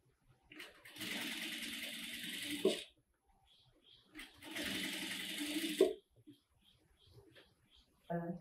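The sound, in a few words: sewing machine shirring fabric with elastic thread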